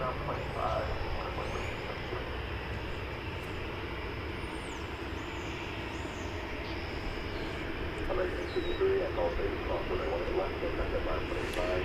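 A 22-year-old Delta Airbus A320 jet airliner bound for Salt Lake City, at DFW Airport, makes a continuous engine rumble and hiss at moderate distance, steady throughout, with no clear talk over it.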